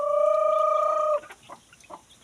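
Chickens give one long, loud drawn-out call, then a few softer scattered clucks follow nearby.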